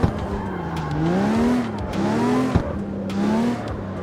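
V12 drift car in CarX Street on PC, its engine revving in rising and falling sweeps across three bursts, with tire squeal and skid noise, loud and close, no talk.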